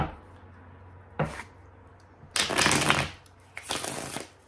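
Tarot cards being shuffled in short riffling bursts, a brief flick followed by two longer crisp shuffles close by, with quiet pauses between.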